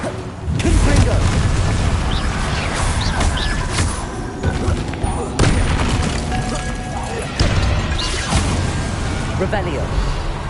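Confringo fire spells explode during Hogwarts Legacy combat: several heavy booms burst out at irregular intervals over a dense, continuous layer of game noise and effects.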